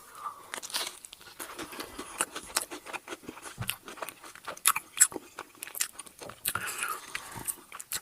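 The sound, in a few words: biting and chewing crunchy frozen pepperoni pizza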